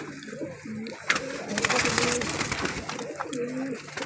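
A matched pair of red-breasted pigeons coos in repeated low throaty rolls, close and fairly loud, with some mechanical clatter and shuffling noise in the background.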